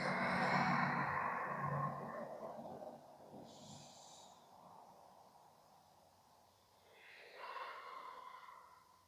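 Slow exhale during gentle seated yoga sacral circles, a breathy, fairly close sigh-like breath out that fades over several seconds, followed later by a softer second breath.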